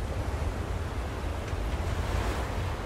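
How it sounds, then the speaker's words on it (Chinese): Ocean waves crash against the shore in the video game Dark Dragon Era: Heretic Judgment, a continuous, close roar of surf with a wind-like hiss and no talking. "哦，这个海浪"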